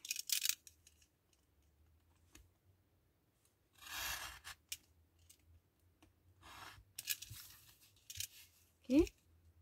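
A blade cutting diagonal lines into cardboard or paper along a ruler while a mask box is made, quiet close scraping and rasping strokes in a few short bursts, with small taps and handling sounds between.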